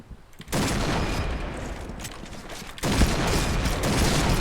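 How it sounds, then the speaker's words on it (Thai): Dense, continuous rapid-fire gunfire from the shooter game Point Blank, loud and close, with a short quieter lull near the start and a slight surge about two-thirds of the way through. "ทำไมมันยิงรัวจังอะ"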